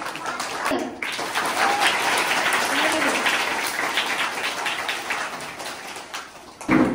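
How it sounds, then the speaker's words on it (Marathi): Audience applause at a school computer room inauguration ceremony, sustained and fairly loud clapping from a gathered crowd, with brief voices underneath and a short dip before the end. "वाघिणीच्या वाढीवर आला त्याबद्दल आपल्या मनात जोरदार टाळ्या."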